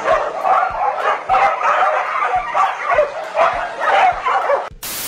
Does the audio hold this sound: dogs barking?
yes